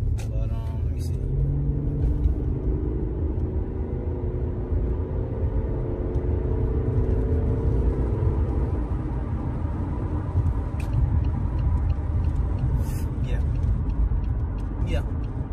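Cabin rumble of a Pontiac Grand Prix car on the road, a steady low engine and road drone with a brief rising rev early on, while someone talks over it throughout.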